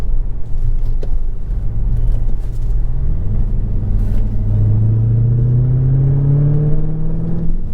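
A 707 hp Dodge Challenger Hellcat V8 roars up through the revs, its deep rumble climbing steadily in pitch as it accelerates hard, loud and close.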